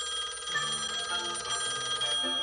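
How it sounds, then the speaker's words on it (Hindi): A cartoon secret gadget phone rings with a steady, bright electronic trill, continuous and fairly loud, with no voices present. "ये तो सीक्रेट गैजेट फोन है"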